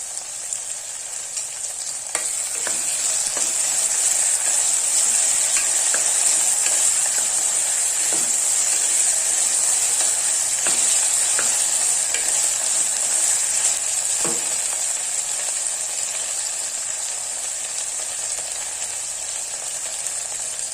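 Vegetables sautéing in a pan with ginger garlic paste, for wheat rava kichadi: a steady, bright sizzle close up, with occasional spatula scrapes and taps breaking through the continuous frying hiss, no voices.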